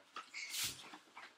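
A dog gives short, soft whimpers and whines with a little breathing, close and quiet, during Christmas present unwrapping at home.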